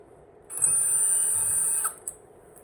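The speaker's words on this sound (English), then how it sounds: "Now we need to undo those 4 screws, holding the front lead to the rails." A power driver with a T25 bit backing out countersunk M5 screws on a Floatwheel ADV2 board, one short high-pitched whir of about a second and a half, close and alone.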